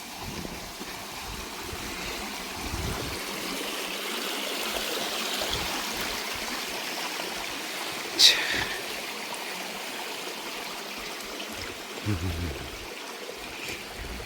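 A steady, gentle rush of a mountain stream flows over rocks in a valley on Saranggsan, Goesan, South Korea, continuous and moderately distant, with a couple of brief clicks breaking through.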